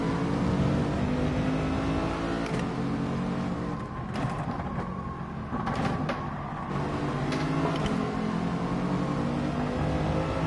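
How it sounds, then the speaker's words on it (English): Aston Martin Vantage revving hard in a Gran Turismo Sport race, a steady loud engine drone with shifting pitch held throughout, with brief gear-change dips along the way. "He's really revving the thing out, revving it all out in that Vantage."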